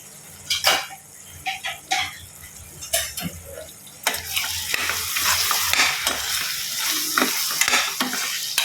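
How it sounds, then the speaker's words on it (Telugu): Freshly made ginger garlic paste fries in a pan for a chicken and potato curry, with a spoon scraping and clinking against the metal, first in short bursts and then over a louder, steady sizzle. "అల్లం వెల్లుల్లి పేస్ట్ ఇప్పుడే ఫ్రెష్గా వేసాను, వేసుకోండి"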